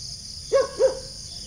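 Crickets chirp at an uphill moto campsite with a Taal Volcano view in Talisay, Batangas: two short, close trills in quick succession over a quiet, faintly hissing night background.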